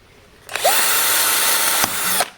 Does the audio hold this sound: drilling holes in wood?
yes